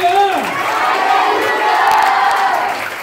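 Church congregation at a worship service clapping and shouting hallelujah, a loud, dense crowd roar of cheering voices and applause that holds steady for a few seconds before easing slightly.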